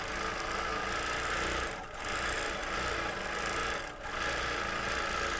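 A quilting machine stitches through a quilt being loaded and quilted, a steady dense mechanical whir running continuously with two brief dips, close and moderately loud, no voices.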